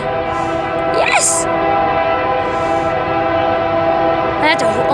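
A CSX freight train rumbles past close by with a loud, continuous rolling roar while its horn blares in long sustained blasts; excited voices shout in the foreground.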